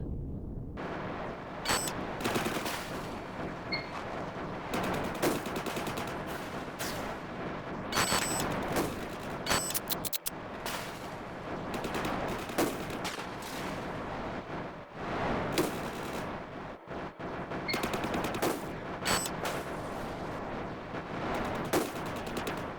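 Enemy gunfire in Empyrion Galactic Survival fills the air with dense, continuous bursts of shots and booming impacts, loud and sustained, with short gaps between volleys.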